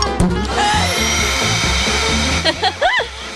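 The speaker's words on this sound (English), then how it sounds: "This vacuum will eat all the worms fast." Vacuum cleaner running loudly close by, a steady whining motor hum with brief bumps and dips near the end, as if the nozzle is moved or blocked.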